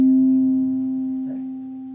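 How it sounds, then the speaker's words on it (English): A steady pure sine wave tone from procedural audio synthesis for video games, a single sustained pitch holding alone and gently fading in level over two seconds. "That's just one individual harmonic signal at a single frequency."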